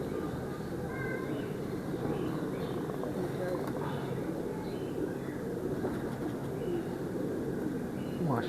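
Pigeons coo at a loft among a flock, soft low cooing steady through the clip under continuous talk and background bustle.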